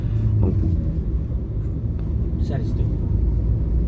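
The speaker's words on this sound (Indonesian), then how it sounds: "Nah, ini kendaraan sudah mulai masuk ke dalam." Vehicles roll onto the newly opened Padang–Sicincin toll road on its trial day, a steady broad traffic rumble with a voice talking over it.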